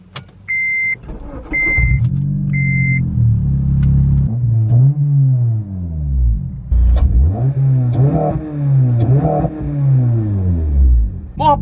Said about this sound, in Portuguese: E vamos seguir a bordo desse Civic SI.